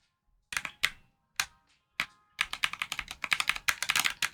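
Keyboard fitted with Bubble Box keycaps being typed on: a few separate clacks, then a fast, dense burst of rapid key presses, close and crisp with no talking.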